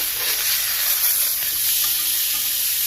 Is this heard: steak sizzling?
yes